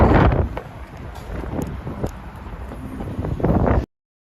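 Heavy wind in Manhattan, New York City, buffets the microphone with a loud, continuous rumbling roar that swells and eases before cutting off abruptly.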